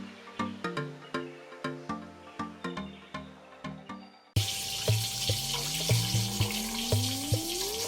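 Coconut milk poured into a cooking pot for ginataang gulay. It starts as a series of rhythmic tapping hits, then switches abruptly to a continuous gurgling pour with a rising tone as the pot fills.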